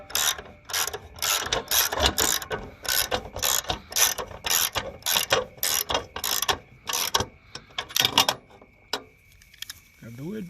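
Rapid, steady ratcheting clicks repeat as a nut is tightened at the corner of a 2004 Jayco Dove camper trailer, close and loud, with a brief voice near the end.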